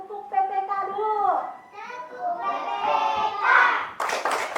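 Young schoolchildren in an Indonesian classroom chant the rhythmic tepuk PPK together, their voices rising in sing-song phrases punctuated by sharp hand claps near the end.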